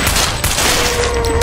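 Revolver gunshots in the flash game Thing Thing Arena: a loud, dense crackle of rapid synthetic gunfire filling the whole short stretch, harsh and close with no pauses and no talk.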